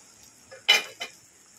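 Masala spices being stir-fried with okra in a pan, a couple of quick scraping, clinking stirs of a utensil against the pan over a faint background, the second stroke softer.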